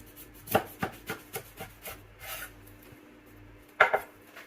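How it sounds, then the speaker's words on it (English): A knife cuts an aubergine in half on a wooden board in a home kitchen, giving a few close scraping, rubbing strokes, then a sharper louder chop near the end, with no talk. "we're going to slice our aubergine in half"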